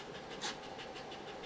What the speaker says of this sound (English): If you hear panting in the background